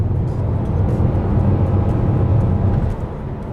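A 2018 Nissan Qashqai N-Tech engine drones loud and low under acceleration on a country back road, a steady, heavy hum that eases slightly near the end.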